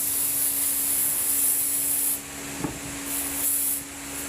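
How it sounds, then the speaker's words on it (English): Spray adhesive hissing steadily onto the edge of a chair back as cane is replaced with upholstery, a continuous close spray that pauses briefly midway and then resumes. "I'm just going to spray glue this a little bit at a time so I don't waste too much glue."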